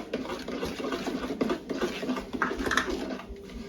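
Peach pie filling being stirred and mixed in a bowl, close wet squelching and scraping with a spoon clinking against the bowl in an uneven steady rhythm, no talk.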